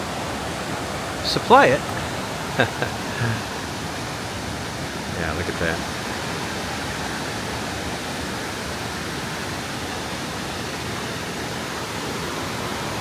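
Rushing water at the ruins of an abandoned Appalachian coal mining town in Kentucky: a steady, broad roar that holds evenly throughout, with a person talking briefly over it early on.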